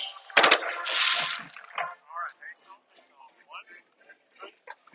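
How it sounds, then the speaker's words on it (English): Fireworks bursting overhead at a high school football game: a close loud bang and rushing crackle, then a few fainter pops as someone talks over the quieter tail. "These fireworks are going off right over my head."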